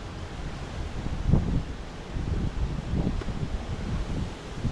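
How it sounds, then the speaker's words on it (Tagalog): Strong wind buffeting outdoors, a continuous low rumbling roar with gusty swells and rustle, loud and close, with no voices. "Lakas ng hangin."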